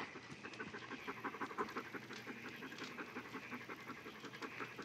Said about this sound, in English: The dog checks the traps.